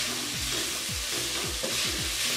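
Chicken keema being stir-fried with spices in a pan with very little oil, a constant sizzle broken by a few regular scraping strokes of a spatula, up close with no talking.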